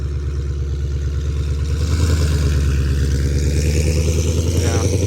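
Shelby GT500 or 2024 Mustang Dark Horse V8 idling and revving loudly close by, a deep rumbling engine with rhythmic burbling pulses that rise slightly in pitch partway through.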